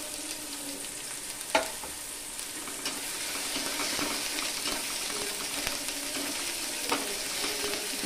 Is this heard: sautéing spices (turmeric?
yes